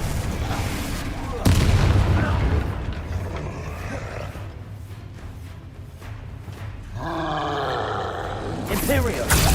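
A Confringo blasting spell goes off in Hogwarts Legacy with a loud booming explosion and a roaring rumble, set among other spell blasts, game sounds and a voice.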